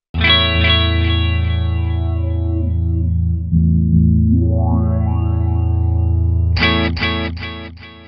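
A Meris LVX delay pedal with stereo filters placed in the pre and dry path shapes a loud, sustained guitar sound whose filter sweeps down and back up, then ends in a few sharp repeated strummed chords, with no talking.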